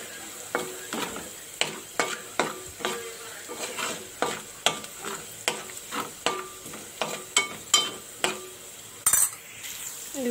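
Onions fry with salt in a pan under a soft, steady sizzle. A spatula scrapes and clinks against the pan in a regular stirring rhythm, roughly every half second.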